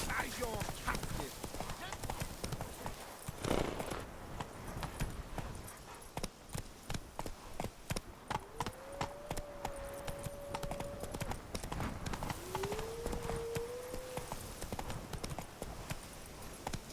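Roach the horse from the Witcher 3 video game gallops, with rapid rhythmic hoofbeats running throughout, game effects and music beneath, and a voice talking over them.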